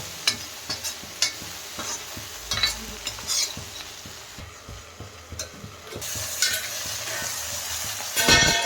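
Okra pieces stirred in a hot pan for a Telugu-style okra fry, with a spoon scraping in a steady run of soft clicks and knocks over a low, continuous sizzle that swells louder near the end.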